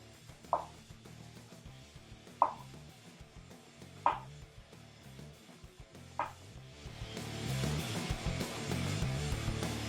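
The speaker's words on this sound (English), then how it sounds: "I'll cut this slice into thirds" A knife cuts through a block of tofu on a cutting board with four sharp, evenly spaced taps against the board, followed by a louder rustling clatter.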